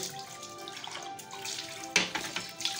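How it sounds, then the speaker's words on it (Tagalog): Dishes are washed by hand in a sink under running water, a steady tap stream with soft splashes and a few sharper clinks and knocks of plates toward the end, close and moderately quiet. "Muhugas ito tatig plato."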